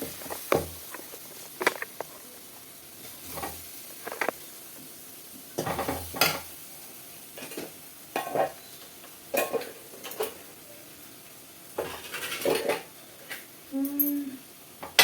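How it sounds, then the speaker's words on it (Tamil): Irregular scraping and clinking of a utensil stirring chili powder and spices in a pan for mutton curry, with a soft sizzle underneath; no talking. "இப்போ வதக்கி விட்டுக்கிறேன்."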